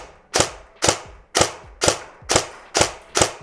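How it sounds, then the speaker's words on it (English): A KWA T6 airsoft rifle fires 3.2 g BBs through a chronograph: seven sharp, evenly spaced snapping shots about half a second apart, each with a brief clack, close and fairly loud, with no talking. "Right, let's put it through the chronograph."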